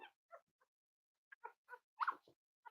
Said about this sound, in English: Wait, I hear other puppies.